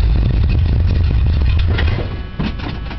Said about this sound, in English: Give her a start so we can hear her rumble